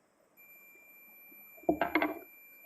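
A multimeter's continuity buzzer sounds while its probes test the terminals of a compressor, a short burst of a few closely spaced beeps after a steady faint electronic tone, close and alone.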